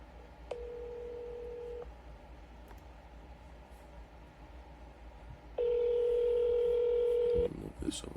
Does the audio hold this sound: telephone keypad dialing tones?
yes